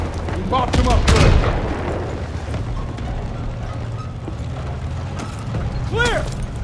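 Cannon and artillery fire during a Normandy D-Day battle in the Call of Duty WW2 video game, with a loud boom and crackling burst early, then mechanical rattling and distant combat noise while shouted voices break through.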